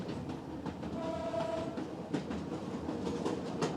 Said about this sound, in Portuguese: Ondulando por entre escarpas montanhosas, o comboio arrasta-se, cá no alto, contemplando o Tua.